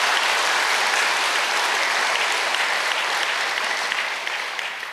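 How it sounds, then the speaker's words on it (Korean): A large congregation at an anniversary commemorative worship service gives thanks with dense, loud applause that holds steady, then eases slightly near the end. "다시 한번 세계평화통일가정연합을 공식 출발시켜 주신 참 부모님께 감사의 박수를 올리겠습니다."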